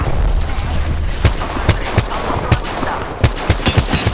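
Gunfire in Apex Legends season 9 comes as loud, sharp shots in irregular bursts that crack repeatedly over a steady, noisy in-game battle background.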